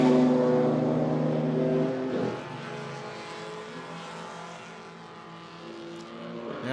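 Race cars roar around a circuit onto a straight during a club race meeting, a loud, sustained engine drone that drops in pitch and volume as the cars pass by, then continues more distantly.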